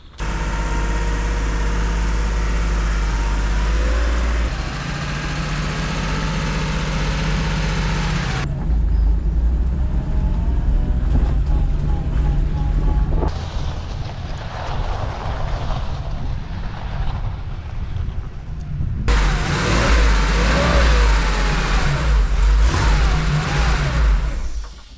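Car engine running steadily as it reverses down a driveway toward a garage, a car with a gearbox fault; a loud continuous low drone with a few revs rising and falling, close by and alone without talk.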